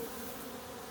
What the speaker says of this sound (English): Holding a bee. Is that a drone bee?